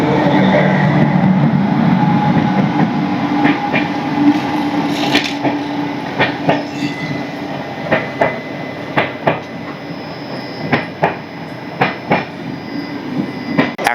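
Chennai–Howrah Mail express train running past a station platform in coastal Odisha, a steady rumble with rhythmic clacks of wheels over rail joints growing sharper and more frequent toward the end.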